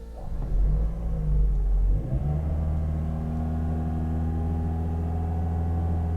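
A parked Toyota Corolla's engine roars through a couple of revs, then drops and settles into a steady, even idle.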